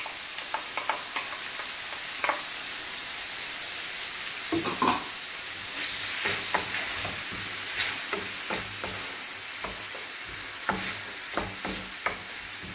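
Onion sautés in butter in a pan with a continuous close sizzle, while a spatula stirs and taps against the pan in scattered light knocks.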